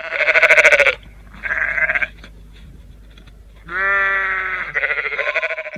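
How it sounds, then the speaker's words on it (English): Sheep and lambs bleat in damp, rainy countryside near Prespa, several loud wavering calls answering one another at close range, with quiet gaps between them. "Sheep conversations continue while I pass, with calls and responses filling the damp air."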